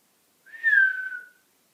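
A single clear whistled tone, close and clean, rising briefly then gliding slightly downward and fading after under a second, alone against silence.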